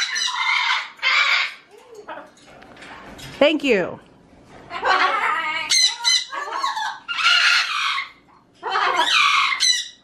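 Loud, harsh pet birds squawk in repeated bursts, some shrill and raspy, close to the microphone, with a brief spoken phrase between them.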